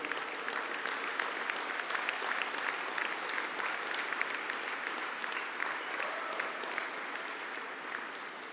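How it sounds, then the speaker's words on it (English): A hall audience at a university conferring ceremony gives a collective round of applause for business honours graduates, steady dense clapping sustained throughout and fading slightly toward the end. "can we have a collective round of applause for the Bachelor of Business Honours in Business?"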